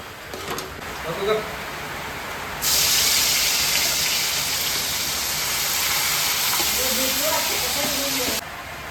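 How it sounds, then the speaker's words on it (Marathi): Chicken hits hot spiced tempering in a village-style pot. A loud, continuous sizzling hiss bursts in and holds steady for several seconds before cutting off, with faint voices in the background. "आणि अशा रीतीने चिकन फोडणी बसलेली आहे"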